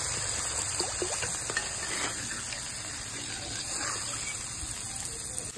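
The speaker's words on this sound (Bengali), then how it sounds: "আমি জল দিয়ে দিচ্ছি।" Water is poured into a cooking pan with frying spices for a Bengali pabda fish curry, giving a steady hissing gush and sizzle that runs throughout, fairly close.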